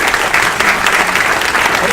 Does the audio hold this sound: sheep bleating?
no